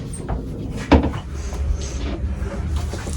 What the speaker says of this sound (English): And the third access for the engine here. There's the door.